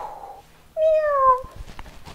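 A human voice imitates a cat, giving one drawn-out meow that rises and falls, after a brief stretch of softer sound.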